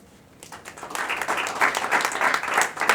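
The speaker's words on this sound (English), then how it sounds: "They're like clapping for each other." Pageant contestants clap for each other at a sashing ceremony, a warm burst of applause building from quiet to a full, steady patter that holds to the end.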